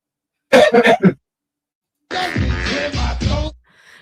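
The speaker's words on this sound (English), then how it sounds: "Let me clear my throat again." Two bouts of throat clearing close to the mic: a short series of rough rasps, a pause, then a longer, harsher gravelly clearing.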